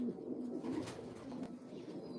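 A racing pigeon coos softly nearby, a few low rolling coos in a quiet setting with faint background rustle.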